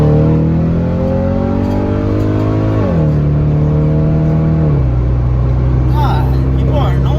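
A new car's engine revs hard and loud, its pitch climbing and then dropping sharply twice as it shifts, all close up with no other sounds.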